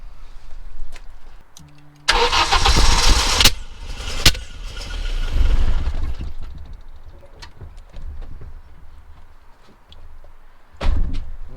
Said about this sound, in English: I'm going to try and start the car